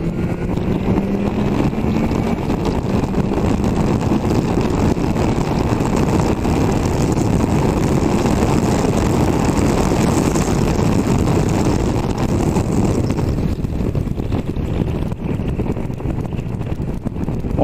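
Triumph Tiger Sport 660 motorcycle pulling hard in third gear, engine drone rising under heavy, continuous wind buffeting across the microphone from a riding position.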